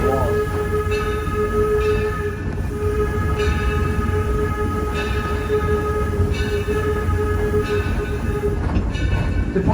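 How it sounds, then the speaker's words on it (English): A loud, steady roar of rushing steam from a steam locomotive during an engine blowdown, continuous throughout with a low rumble beneath and faint repeating clanks. "doing a routine mechanical procedure up in the cab there. It's known as an engine blowdown."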